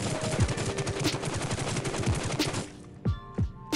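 Rapid automatic fire from a fully kitted QBZ rifle in Rules of Survival, a fast steady stream of close, loud shots that stops and gives way to a few separate single shots.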